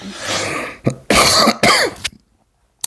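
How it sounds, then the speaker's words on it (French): A few harsh, close coughs in quick succession, followed by a short silence. "Désolé, je tousse, je suis malade."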